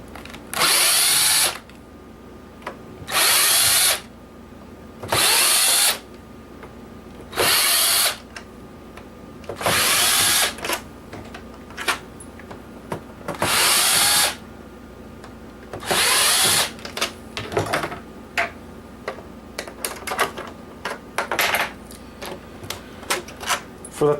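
A power driver removes seven screws from the top of a broken PS3 console, whirring in about seven short, loud, evenly spaced bursts with quieter handling noise between them.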